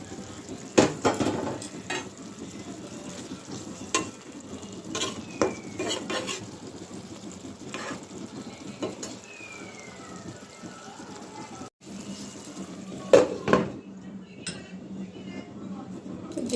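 Hilsa fish frying in a pan with a soft sizzle, under intermittent clinks and scrapes of a utensil stirring against the metal, close and moderately loud.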